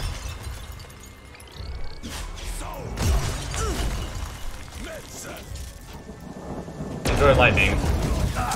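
Crackling lightning spell effects in the video game Magicka burst and rumble like thunder in repeated waves, with a loud surge near the end, mixed with other game sounds.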